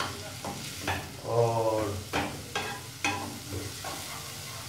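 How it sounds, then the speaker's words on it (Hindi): Onions fry in hot oil with a soft sizzle while a spoon stirs and scrapes the pan in several separate strokes, close by. A brief word is spoken. "फिलहाल हम तेल आंच पे पकाएंगे प्याज को"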